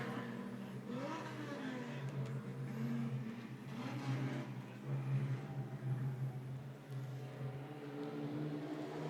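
A field of nine street stock race cars rumbles and revs at a dirt track before a heat, engines droning steadily with surging throttle, loud and continuous.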